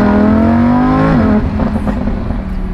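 A Lamborghini sports car's exhaust revs loudly, the engine pitch climbing then dropping abruptly into a rough, burbling idle.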